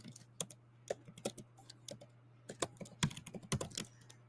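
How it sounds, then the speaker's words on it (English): Typing on a computer keyboard while making a floral birthday card: soft, irregular key clicks come in quick bunches, close and fairly quiet over a low steady hum, with no talking. "I cannot type and talk at the same time"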